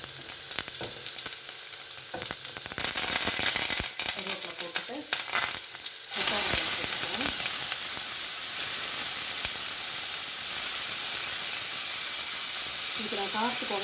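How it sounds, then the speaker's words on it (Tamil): Mustard seeds crackling in hot oil during tempering for a home-cooked Tamil dish, a close, loud, continuous sizzle dotted with sharp pops that swells into a steady frying hiss, with a voice briefly heard underneath. "எண்ணெய் விட்டு கடுகு போட்டு கடுகு பொறுக்கிறோன்னே"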